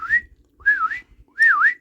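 A voice imitates the whistling noise of a general purpose alarm bell with three short rising-and-falling whistles separated by brief pauses, close and clear.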